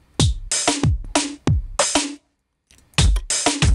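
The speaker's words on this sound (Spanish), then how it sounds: "Acá tenemos para cambiar el tipo de bombo." Reggaeton drum loop from the Ujam Beatmaker Rico plugin as its kick drum sound is swapped, with punchy beats that stop briefly near two seconds and then resume, loud and with no voice.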